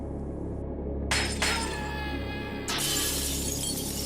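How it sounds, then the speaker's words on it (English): Glass of a space helmet visor shatters under blows: two sharp breaking crashes close together, then a third burst of cracking glass, loud and isolated over a steady low background hum. "Dawkins slamming his fists into his visor to break the glass"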